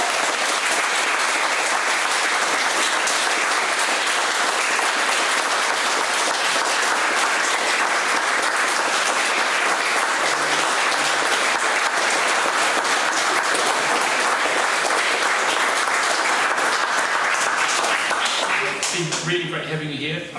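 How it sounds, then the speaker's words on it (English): Audience at a talk on Latin America applauding a guest speaker named Pablo, a long dense wash of many hands clapping steadily and loudly, close and sustained before a short fade at the end. "So just give some applause for Pablo."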